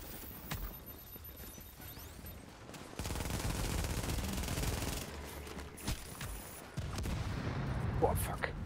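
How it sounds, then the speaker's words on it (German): G36 rifle gunfire in the shooter game The Division, with bursts of automatic shots and other game combat noise heard at a moderate distance over a busy background. "Das ist eine G36."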